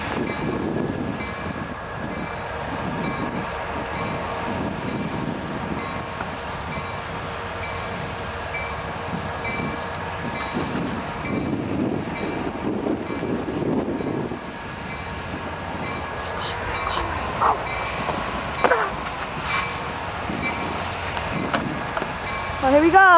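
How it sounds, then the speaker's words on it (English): Conrail locomotive engine rolling out of the locomotive shop at Avon Big Four Yard, a steady rumble with wheel and rail noise that builds near the end, heard up close. "And the engine just pulled out of the locomotive shop."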